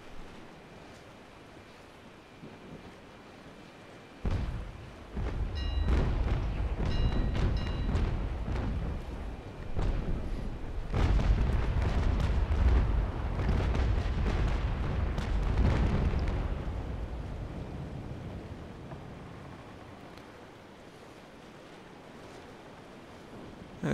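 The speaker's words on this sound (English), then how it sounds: "Getting ready for another broadside." A sailing warship fires a cannon broadside in the naval combat game Naval Action, in a battle of Bellona-class ships against a Victory. Heavy booms roll one into another for about twelve seconds over surf and wind, then fade back to sea ambience.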